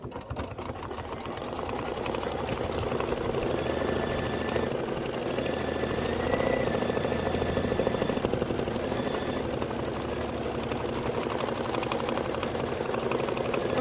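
A sewing machine running steadily through a decorative stitch on a quilted bench-pillow block, a close, continuous mechanical whir with faint rhythmic clatter and a few brief pitch shifts, no voices.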